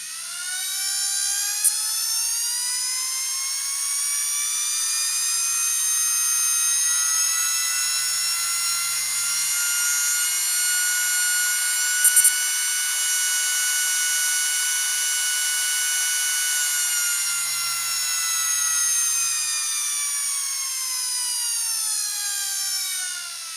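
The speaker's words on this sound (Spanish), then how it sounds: "a medida que va cogiendo revoluciones el motor, baja la tensión" A DC motor on a speed controller spins up with a rising whine that holds a steady high pitch and then winds slightly down, loud and close with faint low hum, no talk.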